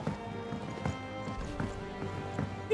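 Horse hooves clip-clop at a steady trot in the video game Final Fantasy XVI, the rhythmic thuds close and clear over a soft game soundscape, with no talking.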